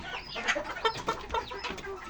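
A young rooster in a chicken coop clucks and makes short cackling calls in a quick, close, uneven series, with no talking.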